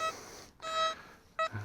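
XP Deus metal detector beeping on a target in a park, a few short electronic tones with brief gaps between, quiet and alone.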